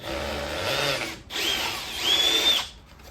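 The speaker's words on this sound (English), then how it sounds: "I'm gonna go ahead and drill the wire holes first." A power drill whirs through material in two bursts with a short pause between, the second rising in pitch, loud and close; drilling wire holes while working on a 1991 Kawasaki KDX250 motorcycle.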